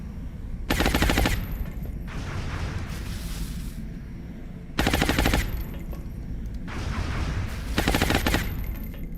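Loud bursts of automatic gunfire from a shot in the XCOM alien base assault game, two long rattling volleys separated by quieter rumbling, close and alone.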